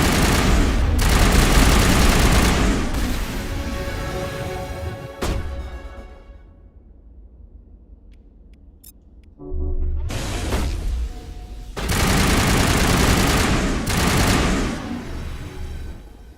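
Loud gunfire from the Mass Effect Legendary Edition game: dense bursts of automatic fire up front, a lull with a sharp single crack, then heavy sustained shooting resumes through to the end.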